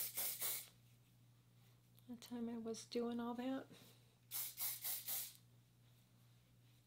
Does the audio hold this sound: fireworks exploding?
no